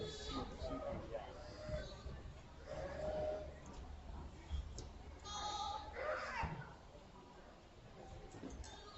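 Goats bleat at a county fair market goat show, several calls rising from a crowded pen under steady crowd chatter and people talking nearby, with scattered shuffling.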